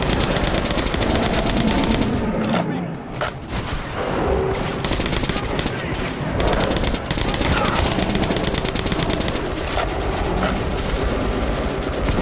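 Sustained heavy gunfire from the Metro video game, rapid automatic bursts and booming shots filling the whole stretch loudly with barely a pause.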